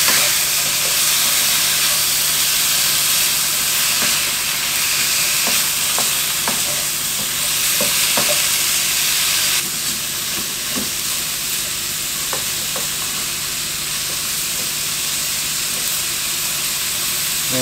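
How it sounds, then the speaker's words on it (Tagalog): Garlic sautés in rendered pork fat for pork spare rib adobo, giving a loud, continuous sizzle and hiss close up. Occasional light scrapes of stirring break through, and the frying eases slightly partway through. "dito rin tayo maggigisa ng bawang"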